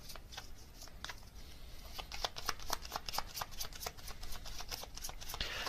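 Tarot cards are shuffled close up in quick riffling bursts, crisp papery flicks repeating rapidly and growing busier, with no voices.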